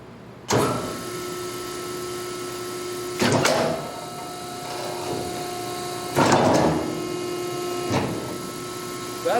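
A metal shear in a welding shop slams through a welding glove, giving four sharp, loud cutting strokes spaced a few seconds apart over a steady machine hum.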